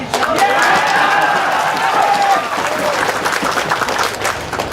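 A crowd at a political rally applauds steadily, a dense wash of clapping with some cheering voices mixed in, fairly loud and close.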